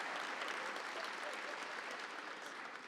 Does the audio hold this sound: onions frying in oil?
no